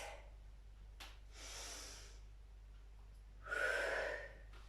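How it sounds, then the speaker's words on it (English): Slow, deep breaths during a recovery pause in an older adults' mobility workout, a couple of airy inhales and exhales, close and quiet with no talking. "Take a deep breath in and out"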